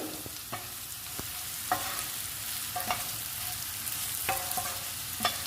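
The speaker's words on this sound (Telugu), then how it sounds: "ఉల్లిపాయ ముక్కలు, పచ్చిమిర్చి, అల్లం వెల్లుల్లి పేస్టు, జీలకర్ర ధనియాల పొడి అన్నీ వేయించుకోవాలండి ఆయిల్లో" Chopped onion, green chilli, ginger garlic paste, cumin and coriander powder frying in oil for a beetroot fry, a soft steady sizzle punctuated by periodic spoon scrapes and taps against the pan, close up and without speech.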